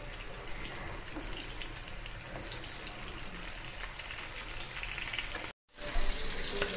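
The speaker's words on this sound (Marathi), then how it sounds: "फ्राय करून घेते आता आणि असेच सगळे पीसेस फ्राय करून घेणार आहे" Fish pieces fry in a pan over a low gas flame, a steady close sizzle with crackling spatter that runs on continuously, cuts out briefly near the end, then resumes slightly brighter.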